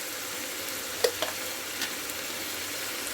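Meat is sautéed in oil in a pan, with a steady close sizzle and crackle broken by a few sharp spatters and the light scrape of stirring.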